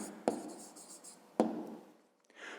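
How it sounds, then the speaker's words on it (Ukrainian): A pen writes an answer on paper, two short sharp taps each followed by a brief scratchy stroke, quiet and close, with a faint rustle near the end. "Пишемо відповідь"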